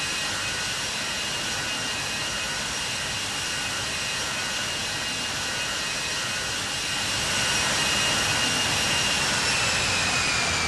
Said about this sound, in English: those engine sounds didn't sound very good